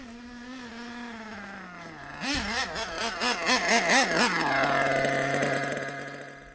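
A small high-revving nitro model micro-engine, just broken in, buzzes loudly and steadily, its pitch wobbling up and down in quick surges before settling into an even drone.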